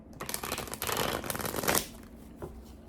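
Tarot cards being shuffled by hand, a dense papery riffling and rustling that lasts close to two seconds, followed by a softer tap as the deck settles.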